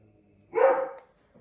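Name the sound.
dog barking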